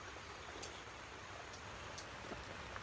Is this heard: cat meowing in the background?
no